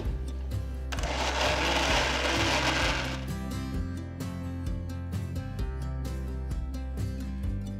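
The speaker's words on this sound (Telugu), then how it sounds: "ఇప్పుడు ఒక టీ స్పూన్ అంతా నీళ్లు వేసి మళ్ళీ రుబ్బాలి" A wet grinder churns lentil batter with a steady motorized whir, a louder rough grinding burst early on, then a continuous rumbling hum with faint clicks.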